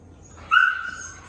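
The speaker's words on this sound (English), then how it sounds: "She's my favorite dog here." A dog at a pet adoption event gives a single short whimpering yip, a rising nasal whine lasting under a second, close by over quiet room noise.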